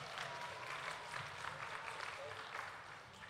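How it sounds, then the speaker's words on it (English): Parents at a children's AWANA Cubbies awards evening give a sustained round of applause, steady and fairly quiet, filling the room for several seconds with some voices mixed in. "Why don't you give yourselves a hand of applause,"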